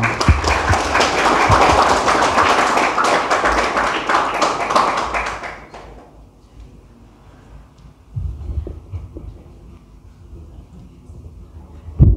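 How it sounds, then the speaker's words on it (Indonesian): Children's group at an Islamic New Year competition is applauded: loud, dense clapping with rhythmic taps for about six seconds, then it stops, leaving quiet rustling and a few low thumps. "Tepuk tangannya"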